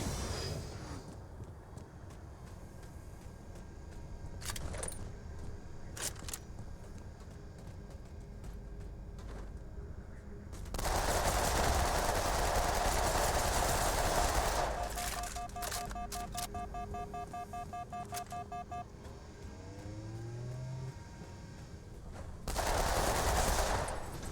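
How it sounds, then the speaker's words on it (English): Halo 2 multiplayer gunfire: rapid automatic bursts and scattered shots, with a loud sustained stretch of firing midway and another near the end, under game effects and occasional talk. "I thought everybody loved Halo 2's multiplayer."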